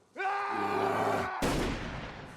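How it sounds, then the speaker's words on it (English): A single loud gunshot cracks out in a TV drama scene, cutting off a long groaning bear roar that precedes it, followed by a fading reverberant tail. "At the critical moment, a gunshot scared the bear away."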